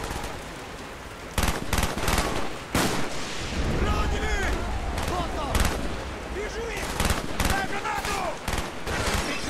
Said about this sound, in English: Where else are they shooting from?